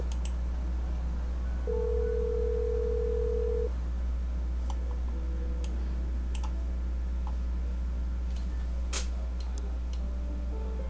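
A phone being dialed in the video game Love and Deepspace: steady soft ticking clicks under a constant low hum, with a brief held tone partway through.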